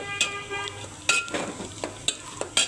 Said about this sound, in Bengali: একটা ডিম দিয়ে ফেটিয়ে এগুলো ম্যারিনেট করে নিচ্ছি খুব সুন্দর করে, ভাজা ভাজা করছি।